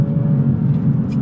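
Toyota Supra 45th Anniversary driving fast on a small technical track at Englishtown, a loud, steady engine roar close to the microphone for a brief moment with no talk.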